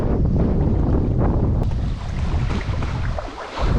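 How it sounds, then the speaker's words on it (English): Strong wind roars outdoors on a river during euro nymphing, a loud continuous broadband buffeting with steady gusts that slacken slightly toward the end, alone with no voices. "oh my god, the wind"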